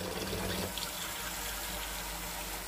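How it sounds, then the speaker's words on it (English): Water pours steadily into a crockpot holding chicken, a continuous close gushing fill that stays even throughout. "I'm going to add water."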